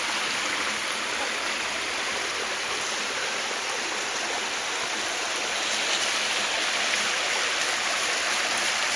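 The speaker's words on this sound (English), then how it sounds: "Here's our Swiss Family Robinson water hose." Water rushes steadily from a hose at a children's play area, a continuous loud splashing flow that holds unbroken throughout.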